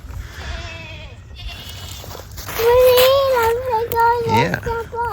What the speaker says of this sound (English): Steers are hollering.